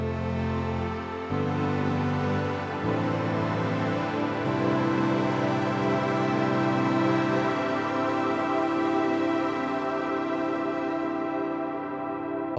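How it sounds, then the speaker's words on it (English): Sonicware Texture Lab granular effect blending the original pitch with a layer one octave above, a thick sustained chord that shifts notes every second or two, dense and steady, fading slightly at the end with no talking. "now we're going to be blending those 2 octaves together and we'll sound like this"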